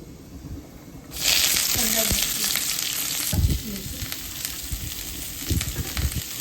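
Mustard seeds hit hot oil for a chicken gravy, bursting into a loud, steady sizzle after a second of quiet, with scattered pops and spoon clinks throughout.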